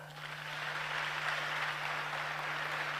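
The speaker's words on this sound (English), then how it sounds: "clap for yourself." Audience at a youth dialogue forum in Ghana claps steadily for about three seconds, a dense, even wash of applause from a crowd with a faint steady hum underneath.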